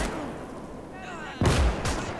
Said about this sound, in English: There's the first mortar.